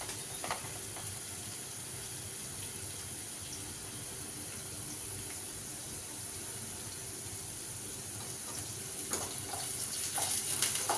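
Okra (bhindi) frying in a pan for masala bhindi, giving a steady, even sizzle throughout with a few faint clinks near the end; no talking.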